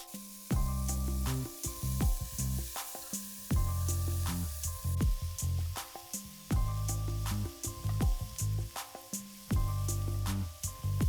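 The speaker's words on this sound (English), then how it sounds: "Let's go ahead and start with the shrimp with a shell." Shell-on shrimp sizzle in an oiled pan, a close, steady hiss that swells and fades in repeated bursts as pieces are turned, with sharp spatters and light clinks and no talking.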